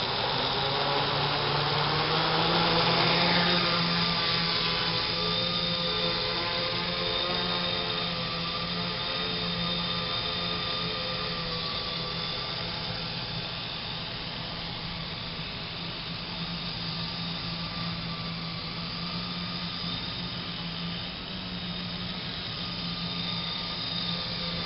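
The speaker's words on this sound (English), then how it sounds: "Okay, let's do a quick flight. Motor's armed. Let's give it some throttle." Motors of a multicopter drone spin up and run under throttle, producing a loud, steady whining drone with a rising sweep near the start, then a sustained hum and hiss.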